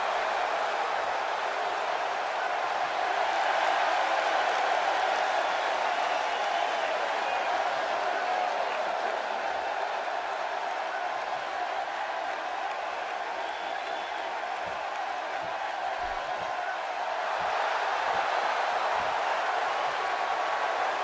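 Arena crowd in WWE 2K18 roaring and applauding at an NXT Takeover women's championship match, a dense sustained wash of cheering that swells and eases over about twenty seconds, with faint commentary beneath.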